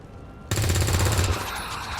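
Rapid gunfire from XCOM 2 erupts abruptly after a short quiet lead-in, a dense loud burst of repeated shots lasting about a second before trailing into a lingering noisy tail.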